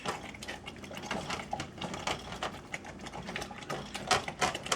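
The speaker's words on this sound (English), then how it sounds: "What you're doing is you're scraping up the rice off the bottom" Spoon scraping and stirring sausage pilau in a pot, lifting stuck rice off the bottom, with irregular close metallic scrapes and clinks.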